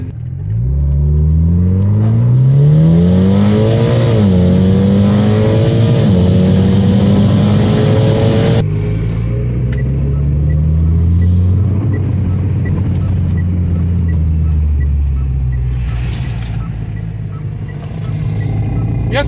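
A 2012 Mitsubishi Lancer Ralliart Sportback AWD engine revs repeatedly, rising and falling in pitch, loud and close, then settles back into a lower steady drone.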